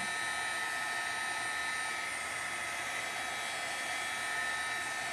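A hair dryer blows over a watercolor painting as a constant, even rushing hiss with a faint whine, heard alone and steady throughout.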